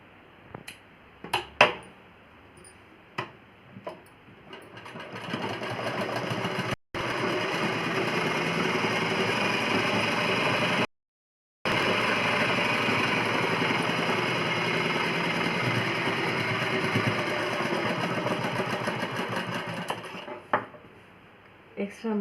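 A sewing machine runs in long, steady stitching bursts on a plain blouse, with brief stops and a few clicks and taps of handling before and after.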